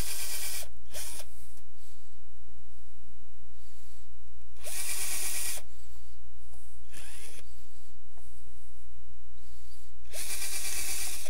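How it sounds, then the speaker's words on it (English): A power drill boring a pilot hole from the front of a workpiece in a home workshop, with several short bursts of drilling, loud and close, separated by pauses. "put a pilot hole in from the front"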